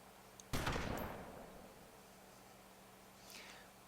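One IzH 43 snaploader shotgun blast fires in DayZ, a sharp loud boom that decays over about a second, then a fainter distant echo or rustle trails off.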